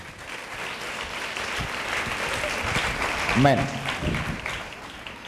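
A church congregation claps together in praise of God, a sustained, fairly loud wash of hand claps that swells slightly toward the middle, with a voice speaking over it.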